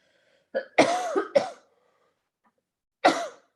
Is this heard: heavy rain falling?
no